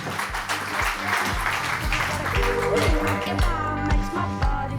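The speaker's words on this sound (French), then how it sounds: "On peut l'applaudir également." An audience at the Dircom Summit 2025 applauds as a Transdev communications director walks on stage: sustained clapping that is loud and close, with faint music or voices underneath.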